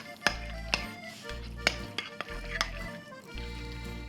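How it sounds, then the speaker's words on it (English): Tzatziki with olive oil and red wine vinegar being stirred in a bowl, a series of quiet clinking taps of a utensil against the dish at an irregular rhythm over a low hum. "And just mix it all together."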